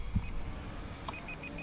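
A Holy Stone HS270 drone controller gives a series of short, faint, evenly spaced beeps over a quiet outdoor background, with one soft thump near the start.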